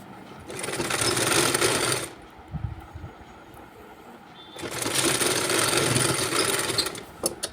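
A sewing machine stitching a blouse buttonhole runs in two steady, close bursts of whirring stitching, separated by a quieter pause filled with light handling clatter, with no talk.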